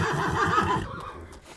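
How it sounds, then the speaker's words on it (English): A horse whinnies once, a loud, close, wavering neigh that fades off after under a second, leaving faint room noise. "This is my horse, Dolly Partner."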